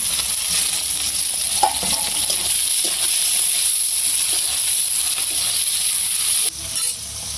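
Onions and green chilies sizzle and fry in a pan, a steady close hiss with occasional stirring, no talking.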